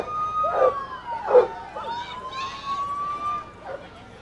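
An Indiana Department of Corrections vehicle's police siren wails at a distance at a 4th of July parade in La Porte, Indiana, with a steady rising and falling tone, partly covered by nearby voices and short bursts of sound.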